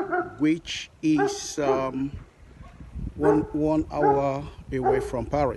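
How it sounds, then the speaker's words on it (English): Someone speaks outdoors in Chartres, France, on a summer afternoon while dogs bark and yip in short, repeated bursts around his voice, some close and fairly loud. "You can hear the dogs barking."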